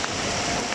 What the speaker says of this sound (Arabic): مطر الحين